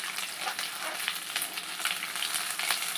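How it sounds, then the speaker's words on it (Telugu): Ginger garlic paste fries in a pan, a steady close sizzle and crackle with faint stirring scrapes throughout, no voices. "వాసన పోయే వరకు వేపేసుకోవాలండి అల్లం వెల్లుల్లి పేస్ట్."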